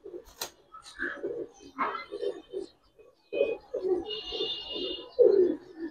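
Domestic pigeons of the Giribaz and colouring breeds coo in a series of soft, low throaty calls close by, with a brief chirp and a faint high whistle-like tone between them, no speech.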